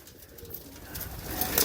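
Pure gold pigeons cooing softly at a loft in Sant Balamgarh, a low continuous murmur that swells a little louder toward the end amid steady background hiss.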